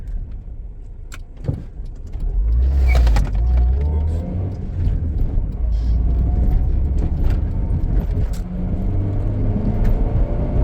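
A slow car with an upgraded clutch pedal drives along, its low engine rumble steady and close throughout, swelling around the third second, with faint bird calls and small rattles in the background.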